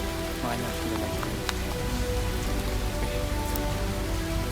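Heavy, storm-like rain pours on a mountain trail on Mount Kerinci: a dense, constant hiss of drops hitting the ground and gear, loud and close, with no voices.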